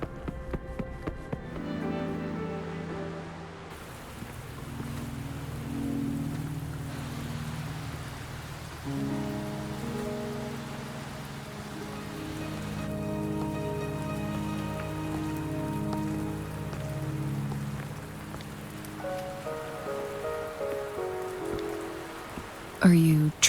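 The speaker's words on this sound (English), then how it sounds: "Are you trapped here by the rain?" Steady rain pouring in the video game Wuthering Waves near a ferry at Mount Firmament, a constant hiss of drops beneath sustained musical tones that continues throughout, no speech.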